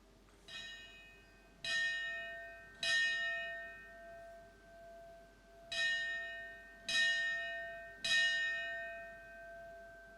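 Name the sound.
ceremonial bell rung by fire department honor guard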